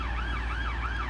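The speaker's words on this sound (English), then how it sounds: "siren's going off in the background" An emergency siren wails continuously near Leicester railway station, its pitch sweeping up and down in a steady cycle, fairly loud over a constant low rumble of traffic or idling train.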